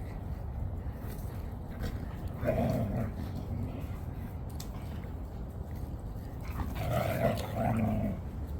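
Dogs growling softly at play in a dog park on a windy day, low rumbling bursts coming in two short spells under steady wind noise.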